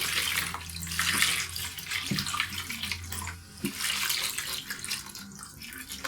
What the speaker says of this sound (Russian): Наливаем воды. И пусть отмокает